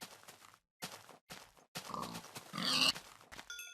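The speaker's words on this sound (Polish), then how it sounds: "Świnia." Minecraft pig grunting and oinking in short, close bursts, several snorty grunts separated by brief pauses, heard alone without talk.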